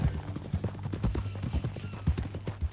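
Horse hooves clip-clop at a steady walking rhythm in Red Dead Redemption 2, close and distinct over a low hum.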